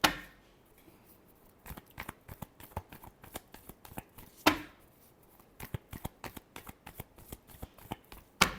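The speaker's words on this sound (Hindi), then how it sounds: "last shuffle" Tarot cards riffle and shuffle in a quiet room, a burst of crisp flutters followed by rapid rhythmic taps and snaps, two louder riffles standing out near the start and middle.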